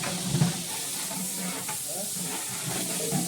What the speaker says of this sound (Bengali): এই যে তারপর একের পর সব মশলা দেওয়া হচ্ছে ডেক্সিতে, এবং ওনার সহযোগিতা করতেছেন, নেড়ে চেড়ে মিক্স করছেন